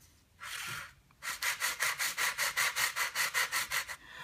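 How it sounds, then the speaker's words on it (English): Wood is sanded by hand with sandpaper held at a slight angle, first one long stroke, then about fourteen quick, even back-and-forth rasping strokes, close and loud with no talk. "I'm mostly sanding on this end."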